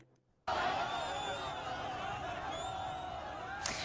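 A dense crowd roars and shouts continuously around hostage Arbel Yehud being moved through it in Gaza, a loud steady wall of voices that cuts in suddenly after a brief quiet start.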